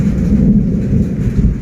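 Low, rolling thunder before rain in rural Thailand, a continuous heavy rumble filling the whole clip, close and loud with no voices.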